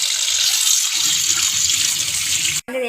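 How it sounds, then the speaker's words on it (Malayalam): Water pours steadily over drained pasta in a home kitchen, a continuous close rushing gush that cuts off sharply near the end, followed by a brief thud. "നമുക്ക് ഇതിലേക്ക് വെള്ളം ഒഴിച്ചു കൊടുക്കാം."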